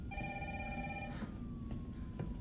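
A telephone rings in the Resident Evil 3 remake on PS4, a steady electronic multi-tone ring held for about a second before a sliding tone and faint clicks, over a low rumbling game ambience.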